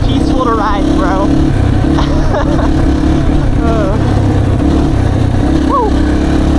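A Yamaha TTR dirt bike with its stock baffled exhaust rides a trail, its engine a steady low drone that stays close throughout, while a rider talks over the engine at times.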